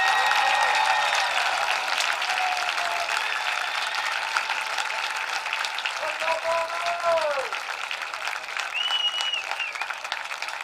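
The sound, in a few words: crowd applause for the football team at a stadium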